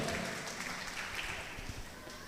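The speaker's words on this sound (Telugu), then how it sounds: "గట్టిగా చప్పట్ల కొట్టి గట్టిగా దేవుని మహిమ పరుద్దాం." A church congregation at a healing service claps hands together, a dense, continuous wash of applause heard fairly close and unbroken for the whole moment.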